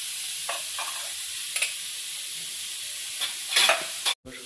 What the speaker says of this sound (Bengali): হালকা করে একটু নাড়িয়ে নিচ্ছি